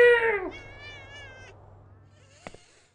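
Cats meow in the video game Thirty Flights of Loving: a loud falling meow, then a longer, fainter wavering one, followed by a short distant chirp, with no talking.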